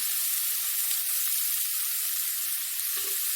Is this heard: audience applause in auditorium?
no